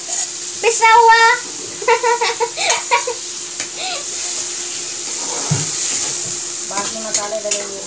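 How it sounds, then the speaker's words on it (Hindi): Ground tomato and onion masala frying in a pan, a moderate steady sizzle with occasional stirring, under intermittent speech. "तो अब मम्मी डाल रही है मसाला। मसाले में है टमाटर और प्याज पिसा हुआ।"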